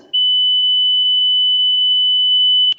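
A steady high-pitched beep imitates the ringing in the ears of tinnitus after loud partying, one continuous pure tone holding loud and even for over two seconds before cutting off with a small click.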